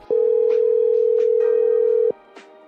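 A telephone dial tone sounds while a call is being placed, a steady two-second hum that cuts off abruptly. Faint clicks and tones come before and after it.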